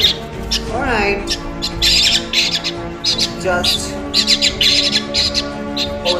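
A rescued wild cuckoo nestling with a broken leg squawks harshly and repeatedly while being fed by syringe, loud and close, in bursts, with a person's voice heard briefly amid the calls.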